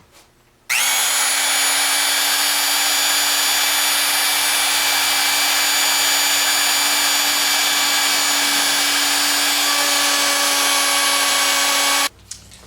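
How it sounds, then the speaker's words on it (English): A power router cutting a cavity for a custom guitar inlay, a loud, steady high-pitched whine that starts abruptly, holds for about eleven seconds, then shifts slightly in pitch before stopping. "I'm going to end up grabbing my router and doing the exact same thing that I had done before."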